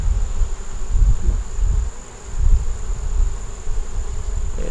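Honey bees buzz low and steady around a hive that is crowded with honey, a continuous close drone with slight swells in loudness.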